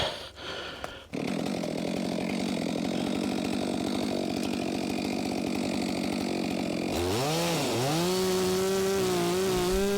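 Chainsaw boring into a hanging firewood log while bucking, a steady loud cutting drone that runs for several seconds, then drops to a wavering idle and revs up again near the end.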